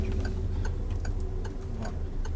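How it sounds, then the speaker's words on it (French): A car's turn-signal indicator ticks in an even, regular rhythm inside the cabin during a driving lesson, with a low steady engine hum underneath and no speech. "Puis on va remettre le clignotant comme il s'est enlevé."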